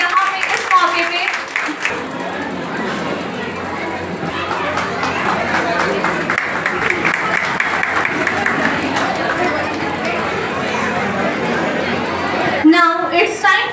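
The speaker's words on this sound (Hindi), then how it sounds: "और एक बार जोरदार ताली हो जाए हमारे सारे क्लास 10 के बच्चों के लिए" Audience at a school awards ceremony gives class 10 students a long, steady round of applause, dense clapping mixed with crowd chatter, then a voice speaks over it near the end.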